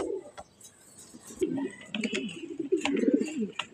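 Large racer grizzle pigeons coo in low, throaty bursts that come close and fairly loud, with soft chirps and rustling between the calls.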